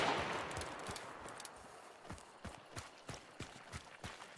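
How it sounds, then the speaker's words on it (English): Shotgun blasts in a first-person shooter video game, a quick series of sharp, punchy shots spaced about every third of a second, mid-distance, over a busy noisy backdrop. "Shotgun."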